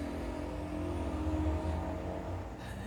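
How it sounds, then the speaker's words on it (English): Traffic at a busy street intersection gives a continuous low rumble of passing cars, with engines droning and a vehicle's tonal whine, steady and moderately close, with no talking. "I live on a really busy intersection, so there's going to be some background noise, cars and all that."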